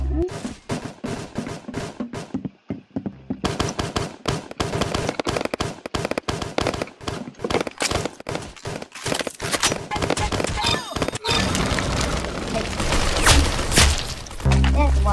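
Rapid gunfire in the Roblox shooter Arsenal, dense bursts of sharp cracking shots that come in clusters and then become continuous, with a player talking excitedly over the shooting.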